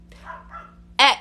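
A Pomeranian lets out one sharp, loud bark near the end, following a quieter stretch of soft whining or muffled voice sounds.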